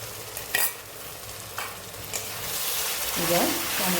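Tomato frying in masala in a pan for a knife fish kaliya. A steady sizzle runs throughout, with a few sharp stirring clinks and scrapes, and the sizzle grows slightly toward the end.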